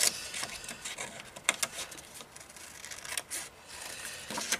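Scissors snipping through a paper bag for a mini album craft, a series of small crisp cuts and rustles at close range, irregular and fairly quiet, with no talk.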